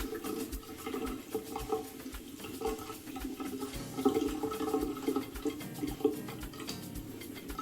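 Water running and splashing steadily while stubble is rinsed off a shaved bald head, a continuous close wash of flow with small spatters and drips, no talking.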